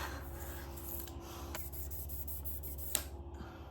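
Fine 5000-grit sanding on a sterling silver Victorinox Classic knife, a quiet, steady rubbing with a few soft scrapes and one sharp tap near the end.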